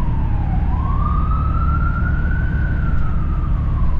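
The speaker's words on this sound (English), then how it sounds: "Where's that ambulance? Oh, he was above me." An ambulance siren in New York City wails loudly and close, its tone dipping and then rising into a long sustained sweep over heavy truck-cab rumble.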